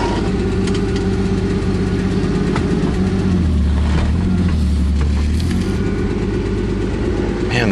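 A Ford Fairmont with a failed master cylinder and no working brakes runs loudly and steadily, its engine idling with low rumbling throughout and a brief deeper surge of revving near the middle.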